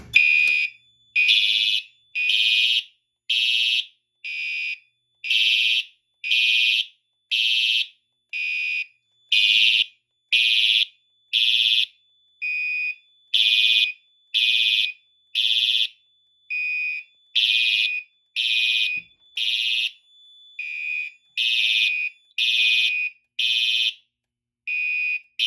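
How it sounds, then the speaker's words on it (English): A fire alarm on a Fire-Lite MS-4424B system, triggered by a pulled Pyrotronics manual pull station, blares in a steady on-off pattern of loud, evenly spaced high-pitched tones, repeating continuously with no voices. "I'm going to go ahead and pull the Pyrotronics pull station"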